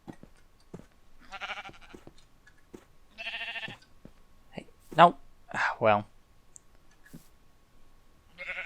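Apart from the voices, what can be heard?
sheep bleating in a video game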